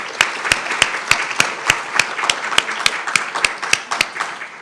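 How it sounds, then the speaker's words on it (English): Sparse, evenly spaced claps ring out at a county candidates' forum, a small audience applauding the participants in a steady rhythm of distinct hand strikes with no talk over them. "Let's give one more round of applause to all of our participants."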